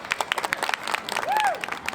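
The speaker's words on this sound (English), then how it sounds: "welcome my beautiful wife, Emily, and baby Nellie to the stage for a brief round of applause" Comedy festival audience gives a short round of applause as a comedian's wife and baby come onstage, scattered claps rising to a brief patter with faint cheering and a whistle-like tone, fairly quiet and distant.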